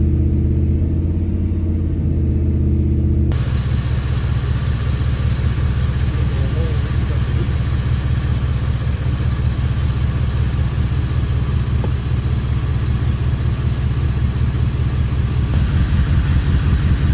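A car engine with a bad fuel injector idles close by, a loud, steady low rumble that jumps in level after about three seconds and then holds an even, throbbing drone to the end.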